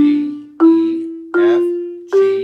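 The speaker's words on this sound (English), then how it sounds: "This is called the marimba. The marimba is made out of wood." Four clear struck wooden marimba notes ring out one after another, each bright attack decaying before the next, rising step by step as the start of a major scale, close and solo.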